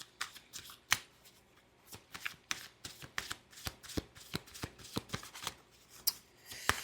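A deck of tarot cards being shuffled at close range, with a steady run of crisp riffling snaps and flicks, loud and clear with no talking.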